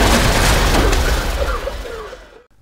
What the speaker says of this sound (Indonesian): para pemberontak menyiapkan senjata 82 mm dan boom